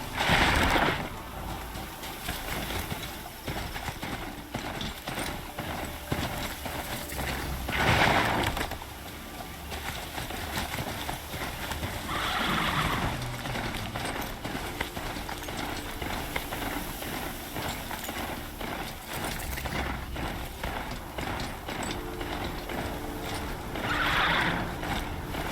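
Hooves of a Strider, the robotic horse mount in Horizon Zero Dawn, clip-clop steadily under a continuous game soundtrack and ambience, with a few louder bursts standing out along the way.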